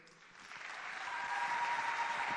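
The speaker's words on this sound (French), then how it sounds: "sous vos applaudissements, nous invitons la boursière Bassinsa Boufouani-Kissa Mariette." Sustained audience applause at a scholarship awards ceremony as a laureate is called up, building steadily and dense throughout, with no voices over it.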